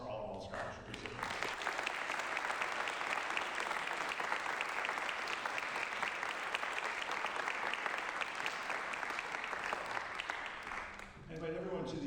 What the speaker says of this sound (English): One more round of applause for all scholarship recipients.